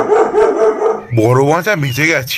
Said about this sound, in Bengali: কি ব্যাপার, কুকুর ডাকছে কেন?